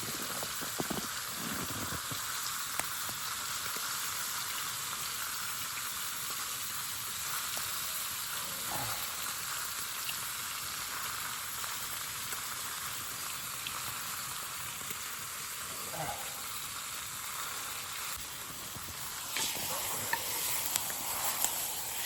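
Onions and steak sizzling in a pan over a campfire in the cold outdoors, a steady crackling hiss throughout with occasional scrapes and stirring knocks, no talk.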